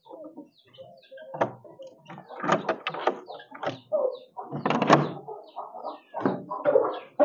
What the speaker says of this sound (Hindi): ये यहाँ पर हैं जी वाइट मुर्गियाँ, हमारी सारी वाइट मुर्गियाँ यहाँ पर हैं।